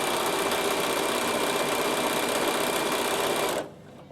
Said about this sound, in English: You now want the machine to do all of the satin stitching.